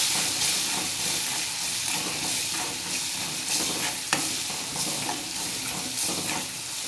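Tomatoes being stirred into a frying curry of drumsticks and lentils, with steady sizzling and hiss running throughout and a spoon scraping the pan in irregular strokes, close and fairly loud, with no talking.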